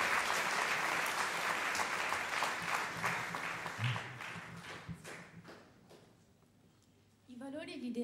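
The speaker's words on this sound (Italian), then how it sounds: "Direi di fare un applauso anche ai docenti che sono qua con noi." Audience applause for teachers at a school event about the Resistance, a dense burst of clapping that gradually thins and fades, followed by a voice starting to speak.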